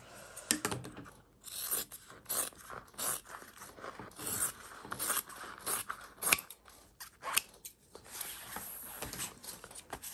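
Scissors snip repeatedly through fabric, trimming the seam allowance on a pocket piece for a sewn handbag. The cuts come close and crisp in an irregular run of short bursts, with no talking.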